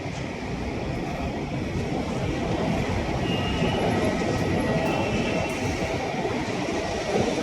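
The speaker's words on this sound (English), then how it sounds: "That's another plane on the runway." A plane on the runway at Chennai airport gives off a steady, continuous roar, evenly loud and somewhat distant, lasting the whole stretch with no voices.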